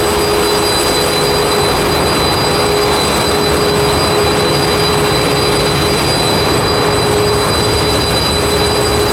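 A loud, unbroken mechanical engine drone with a constant high whine runs throughout, close and heavy, with no voices, in the engine room of a passenger launch on the Dhaka to Ilisha route.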